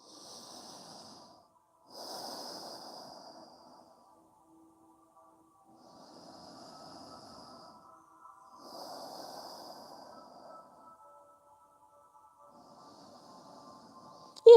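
A person doing yoga breathes slowly through the nose, with several soft, airy inhales and exhales in an even rhythm, close and quiet, separated by brief pauses.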